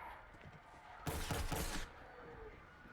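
During skeet shooting in Borderlands 3, a single quick volley of gunfire breaks out, loud against a quiet background and lasting under a second.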